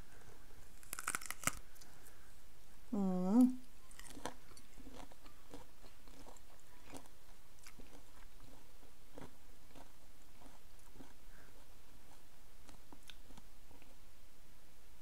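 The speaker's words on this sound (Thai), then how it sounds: "ลองเคี้ยวดูก่อนเนาะลองกัดดูก่อน" Raw cactus is bitten and chewed up close, with crisp tearing and crunching at the start followed by steady, quieter chewing sounds, and a brief murmur from a voice.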